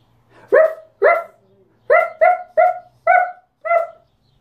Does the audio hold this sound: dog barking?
yes